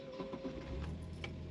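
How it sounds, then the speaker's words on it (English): The fuel pump of a 1973 Volvo 1800ES ticks in a faint, steady rapid rhythm with a low hum underneath, heard alone without voices. "Fuel pump."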